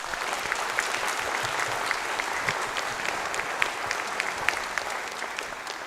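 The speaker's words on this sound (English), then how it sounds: "So can we have a round of applause for those amazing people?" A large audience applauds steadily at a high school band and choir concert, a dense, even wash of clapping that holds at a moderate level throughout without voices cutting through.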